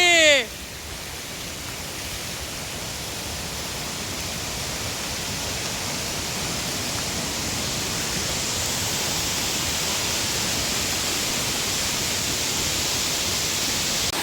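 A broad, continuous roar of falling water at the Kutralam Thenaruvi waterfall in Salango Temple Park, Malaysia, steady and close for the whole stretch after a brief whistling sound at the very start.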